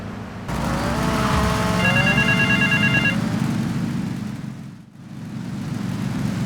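A payphone rings in the Grand Theft Auto Vice City video game, a loud electronic ring tone repeating for a few seconds over a steady low traffic and engine rumble, then fading briefly before the background noise returns.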